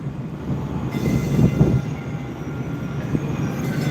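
A light rail train rumbles past at moderate distance, a steady low rolling drone that swells in the middle and carries on throughout, with no talk over it.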